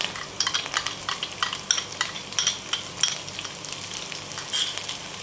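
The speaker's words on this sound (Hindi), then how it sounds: "अब इन सभी चीज़ों को हम हल्का सा सॉटे कर लेंगे।" Onions and curry leaves sautéing in a pan for stuffed bread pakoda, giving a steady close sizzle with repeated scraping stir strokes and light utensil clinks throughout, no talking.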